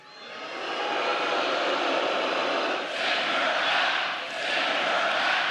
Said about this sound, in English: The crowd calling for Minnesota Congresswoman Ilhan Omar to be sent back to the country she left as a child.